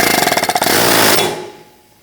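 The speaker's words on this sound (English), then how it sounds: "Sometimes you might need an air hammer," An air hammer works to free a Ford Focus front axle, a loud rapid rattling burst of pneumatic blows that blends into a sustained buzz, then cuts off and fades within about two seconds.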